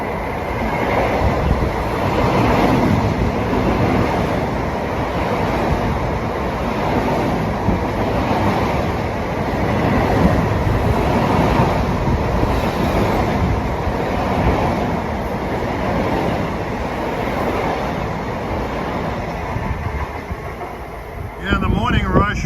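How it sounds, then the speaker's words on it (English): A Long Island Rail Road train passes through Westbury station on the triple-track line during the evening rush, a steady loud rumble with rhythmic clacking of the cars, close by and continuous throughout, with a voice faintly audible. "The 4:51 train to Ronkonkoma will arrive."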